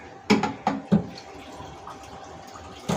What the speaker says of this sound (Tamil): கொஞ்சமாக தண்ணி ஊற்றினா போதும் வேகிறதுக்கு